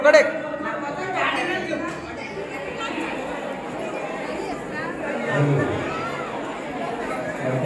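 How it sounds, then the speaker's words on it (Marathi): Crowd chatter at a Shiva temple during Mahashivratri festival, a dense overlapping murmur of many voices at moderate level with a few nearer voices rising out, continuous throughout. "इकडे गर्दी बघू शकता भरपूर गर्दी आहे इकडे मंदिरावर"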